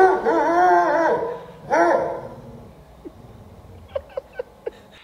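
A Golden Retriever-type dog gives two long, loud, wavering howls up close, followed by a series of short, sharp yips.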